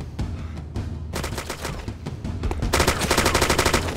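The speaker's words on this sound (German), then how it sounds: "Ich höre da Schüsse." Gunfire in the survival shooter DayZ: scattered single shots at first, then a rapid automatic burst, moderately distant.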